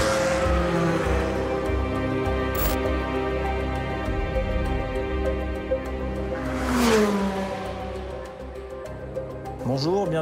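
A Lamera Cup race car, number 27, at full throttle on the Dijon circuit, heard onboard as a loud sustained engine roar with rising and falling revs through gear changes, under a commentator's voice.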